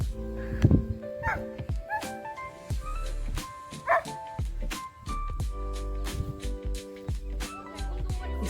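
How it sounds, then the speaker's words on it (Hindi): A dog on a farm barks and yips in short, close bursts, some loud and some whining, spread unevenly over several seconds. "इस कुत्ते को अगर शेफ ने देख लिया तो ये भौंकने लग जाएगा।"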